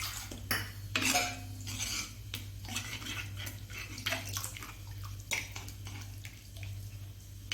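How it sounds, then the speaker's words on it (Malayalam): Water is poured into a pot of tomato curry made with buttermilk and no ground coconut, then stirred, giving soft splashing and trickling with light clinks and scrapes of a spoon against the pot, fairly quiet and close. "കുറച്ചും കൂടി വെള്ളം ഒഴിച്ച് കൊടുക്കാം"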